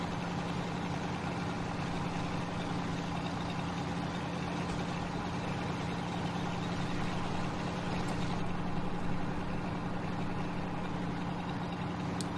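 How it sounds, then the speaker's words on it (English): A truck engine idles in the Farming Simulator 17 game, a steady low rumbling drone that holds loud and constant with no talk over it. "This was a really nice truck, but the sounds were terrible."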